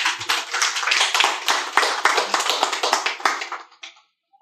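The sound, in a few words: audience clapping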